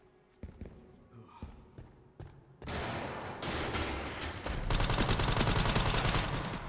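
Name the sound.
gunfire from bonus content guns in video game Resident Evil Requiem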